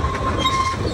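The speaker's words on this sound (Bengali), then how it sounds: "আমিও বসে পড়েছি টয় ট্রেনে" A toy train at Nicco Park amusement park rolls along with a close, continuous rumble, its wheels clicking and rattling over the track for about a second.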